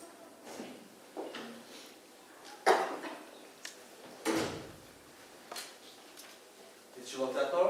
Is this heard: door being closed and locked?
yes